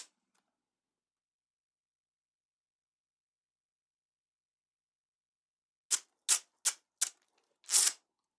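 A cocorico percussion instrument being played, heard after a long silence as five sharp, separate clicking or ratcheting bursts in quick succession, with the last one slightly longer and louder.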